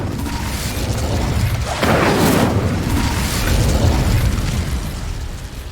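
An Incendio fire spell erupts in Hogwarts Legacy, a loud, roaring blast that swells sharply partway through and keeps burning with a broad, rushing crackle over a steady low rumble.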